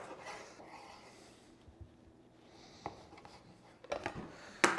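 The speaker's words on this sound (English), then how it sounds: "I'm going to cut the bacon crosswise into lardon." A knife slices through frozen bacon crosswise into lardons, giving soft rasping strokes and scattered sharp taps on a board, with louder crisp cuts near the end.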